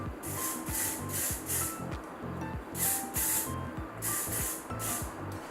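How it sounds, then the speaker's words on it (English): Memory mist hair product sprayed in repeated short pump bursts, about a dozen quick hissing spritzes in clusters, close and fairly soft, with light handling noise beneath and no talking. "Going in with the memory mist."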